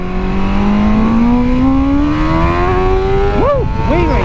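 A 2023 BMW M1000R motorcycle accelerates hard in Mexico, its engine climbing steadily in pitch with a loud, close, wind-buffeted whine, then snapping through quick throttle blips near the end.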